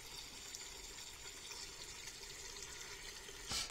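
Water drains from a CO2 system into a bucket as a faint, steady rushing wash that continues throughout, with a small splash near the end.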